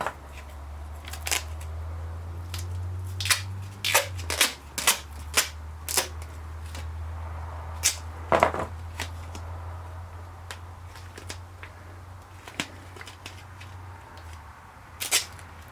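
Adhesive tape is pulled and pressed down onto a homemade occlusive chest seal dressing, giving a series of sharp, crackly rips and taps, some loud and close, over a constant low hum.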